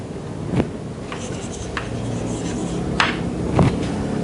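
Chalk or marker scratching out a word on a board during a mathematics lecture, a few short strokes and taps over steady room hiss.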